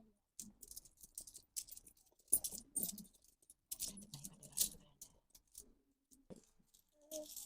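Small metal coins clink and click in short bursts, set down one after another at close range, with quiet gaps between handfuls.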